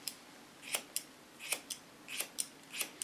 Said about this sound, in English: So in this line I'm going to cut the hair off.